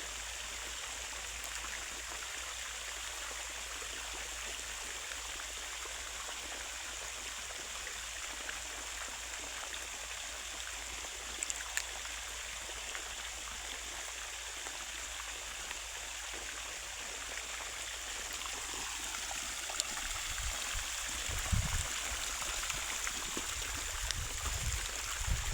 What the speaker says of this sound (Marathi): ऊसाला पाणी देणं चालू आहे